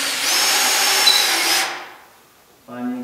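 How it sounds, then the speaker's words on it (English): A power drill drives screws into a wall panel, whining loudly and steadily for about a second and a half before winding down. A voice starts speaking right at the end. "start the screws."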